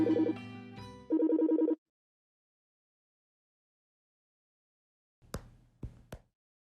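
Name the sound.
telephone ringing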